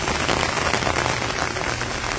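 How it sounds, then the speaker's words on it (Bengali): Steady rain falls during the rainy season in Bangladesh, a dense, even hiss of drops on surfaces, moderately loud and continuous, with no talking. "তো যাই হোক বৃষ্টি আবার নামা শুরু হয়ে গেছে"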